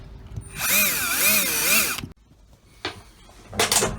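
Power drill boring holes in a boat seacock, a loud whining burst with wavering pitch for about a second and a half, followed by a pause and two shorter, rougher drill bursts.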